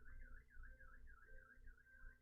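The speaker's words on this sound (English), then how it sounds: "a car alarm outside." A car alarm wails in a repeating, warbling siren pattern, faint and distant, sounding alone without any talking.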